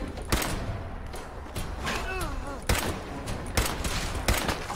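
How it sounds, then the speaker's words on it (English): Fallout 4 combat with gunfire aimed at the player: several sharp, separate shots land at irregular intervals, with a brief warbling tone in between. "Just getting shot at"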